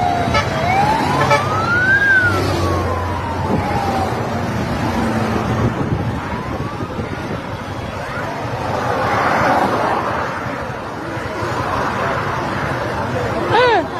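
A fire engine siren wails in rising and falling sweeps within a Tanzanian presidential motorcade, loud and nearby over the rumble of passing vehicles, with people talking throughout.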